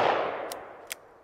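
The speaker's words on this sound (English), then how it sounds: "First up, the Remington 110 grain semi-jacketed hollow point out of the 3-inch L-frame." A Remington 110 grain semi-jacketed hollow point .357 Magnum round fired from a 3-inch L-frame revolver leaves a single sharp report that decays quickly, followed by two faint metallic clicks.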